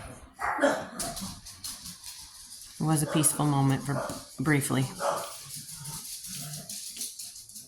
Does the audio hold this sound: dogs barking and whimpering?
yes